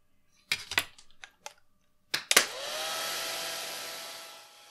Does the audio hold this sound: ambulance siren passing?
no